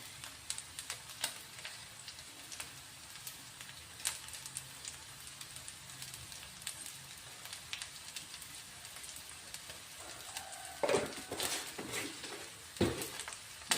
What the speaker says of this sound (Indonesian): Kita aduk pelan-pelan lagi sampai matang